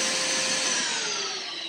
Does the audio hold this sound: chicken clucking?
no